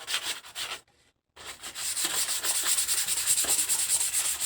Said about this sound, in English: all you're going to do is sand it until it turns white like that